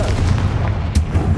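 A Confringo fire-blast spell explodes in the Hogwarts Legacy video game, a sharp booming burst rising out of a dense, loud wash of in-game rumble.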